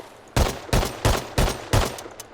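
An SKS rifle in the game Rust fires five loud, close, evenly spaced shots about a third of a second apart, each with a sharp crack and short decay, followed by a fainter sixth.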